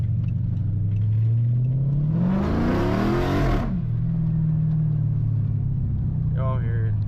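A Chrysler 300 SRT8 with the 6.4 engine and deleted cat and muffler revs once, its deep exhaust note climbing to a loud raspy peak and falling back to a rumbling idle, heard from inside the car at night with talk over it.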